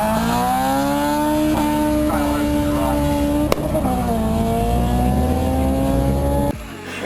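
A B16-engined drag car accelerates hard down a runway strip, a steady loud engine note rising through the gears over several seconds, with crowd chatter and talk mixed in before the sound cuts off abruptly near the end.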